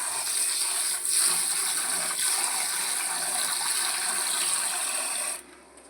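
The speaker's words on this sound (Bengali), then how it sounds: "এবার চালটা আমি ধুয়ে নেব।" Minicate rice being washed under running water for Bengali vegetarian khichuri, a steady close hiss and splash of flowing water with faint rubbing that stops abruptly near the end.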